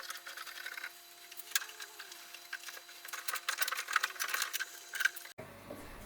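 Screws being driven to fix bulkheads into a boat hull, heard as quiet, irregular ticking and clicking bursts with steady faint tonal hums underneath, ending in a short change of room sound near the end.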